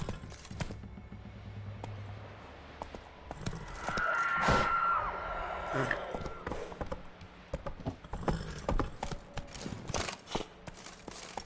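Horse hooves thud in a rhythmic clip-clop while riding through the Skellige region in the video game Witcher 3, mixed with game sound effects and brief shouts.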